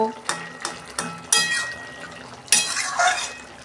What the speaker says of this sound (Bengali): আমি ঢাকনাটা খুলে একটু দেখি